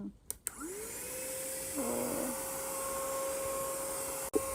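Smart vacuum cleaner running on a carpet, a steady close motor whine and airflow hum that starts after a couple of clicks and holds throughout with a slight pitch shift midway.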